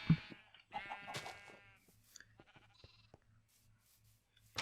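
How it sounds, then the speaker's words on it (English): Sheep bleating in a Minecraft 1.8 survival world's sheep farm, several wavering blocky bleats in short bursts, fairly close and clear, with quiet gaps between calls. "I have a sheep farm just basically right up here"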